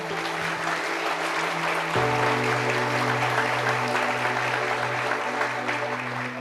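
A church congregation claps steadily and warmly over a sustained instrumental drone, with a held chord that shifts partway through.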